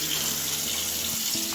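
Hot water runs steadily from a household tap fed by a combi boiler, a close, even rushing flow with a faint low tonal hum beneath it and no talking.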